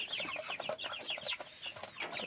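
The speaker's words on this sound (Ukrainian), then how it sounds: "Ось такі курчатка вже є місяць." Month-old chicks cluck and peep continuously nearby around feeders, a busy flock chattering in overlapping bursts.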